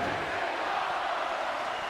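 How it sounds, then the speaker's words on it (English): A wrestling crowd at an independent women's show roars in a steady, dense wash of voices, loud and continuous without clear gaps, as though chanting together throughout. "The crowd is chanting, "This is awesome.""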